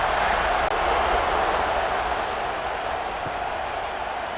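A stadium crowd in a college football video game, Georgia vs. Austin Peay, gives a steady, broad roar of cheering that holds at a constant level throughout with no other distinct sounds.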